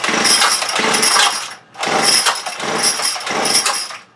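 Small two-stroke engine, likely on a saw or weed-eater, running rough in a hot metal building before tuning: a loud, close, buzzing whine that surges and dips unevenly, briefly nearly dying out mid-way.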